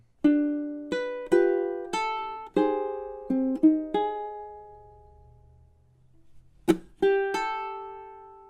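Ukulele strums the chords of a song, measures 16 to 18 of the second ending, in a series of bright, ringing strikes that decay between hits, played alone with no voice.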